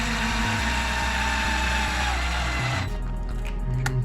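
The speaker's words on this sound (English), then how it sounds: "Servo bottoming out." Servo straining and bottoming out in an Arrma Limitless V2 RC car, a loud sustained electric whine and buzz that cuts off near the end, followed by quieter ticks and a brief hum.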